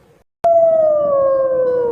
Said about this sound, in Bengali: খেক শিয়াল খয় খেক শিয়ালি পালাই ছুটি